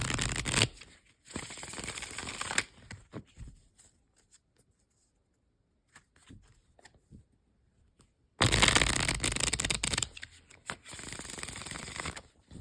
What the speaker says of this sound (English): While I shuffle the deck.